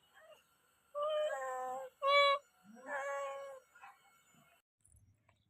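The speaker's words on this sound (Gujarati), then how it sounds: "અહીં જો આપણે મીંદડો સૂતો છે" A tomcat just roused from sleep gives three clear, drawn-out meows in quick succession, the second one shortest and sharpest, fairly soft and close in an otherwise quiet room.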